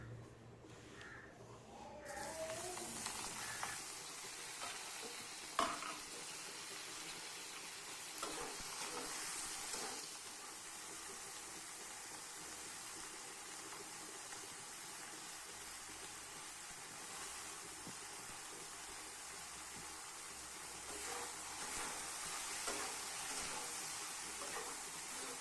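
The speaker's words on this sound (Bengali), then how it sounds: "ঝিঙেগুলো একটু ভাজতে হবে।" Ridge gourd pieces sizzle steadily in hot oil in a pan, a continuous close frying hiss with intermittent stirring scrapes, no talking heard.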